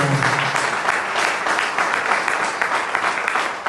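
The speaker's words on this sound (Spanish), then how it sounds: "Si da un fuerte aplauso al Señor" A church congregation claps loudly and continuously during a sermon, a dense, close wash of many hands with no talking.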